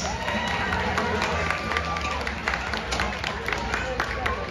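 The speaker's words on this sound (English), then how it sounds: "Give Reggie a round of" Audience giving a round of applause to a participant named Reggie at a live stage show, dense sustained clapping with sharp individual claps and some background voices.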